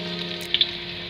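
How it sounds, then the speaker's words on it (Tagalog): Ginger sizzles in hot cooking oil for chicken tinola, a brief steady hiss heard close up, with two small sharp pops partway through. "Painit po ng mantika, una po nating ilagay ang luya."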